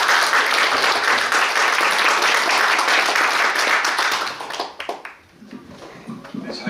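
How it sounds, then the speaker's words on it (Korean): A crowd applauds a speaker at a political organization's founding rally, loud sustained clapping that fades out after about four and a half seconds, followed by a few scattered claps and light room noise. "큰 박수 부탁드립니다."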